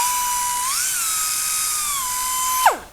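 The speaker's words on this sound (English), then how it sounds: "Put this in our die grinder. I've got the speed turned down." Die grinder running at reduced speed to blend a Wilton C2 vise casting with a 60-grit abrasive: a steady high-pitched whine that rises slightly in pitch, holds, drops back, then winds down abruptly at the end, loud and close with no talk.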